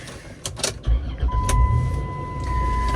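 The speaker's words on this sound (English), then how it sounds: "It is pretty noisy with the traffic." Road traffic passing close by, a low, uneven rumble of vehicles that builds and holds, with sharp clicks early on and a thin steady tone running through the second half.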